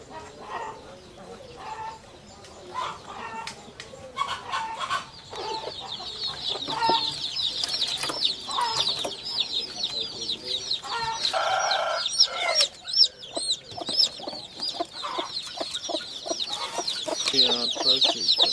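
Chickens and young chicks on a small natural-method poultry farm cluck and chirp continuously. The calls are close and overlapping, with busy, bright peeping that rises over the length of the recording.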